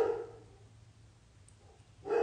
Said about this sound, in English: I'll just wait for him to stop barking at the dogs.